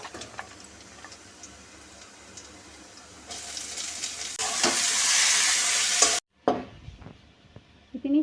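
Chopped garlic and green chili hit a hot pan of cooked greens and fry: soft stirring and clinks first, then a loud, steady sizzle for a few seconds before it cuts off, followed by scraping and stirring.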